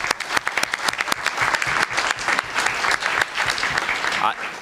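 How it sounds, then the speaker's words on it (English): A room full of people applauds steadily for several seconds, a dense burst of clapping with some voices mixed in. "we can give them a round of applause"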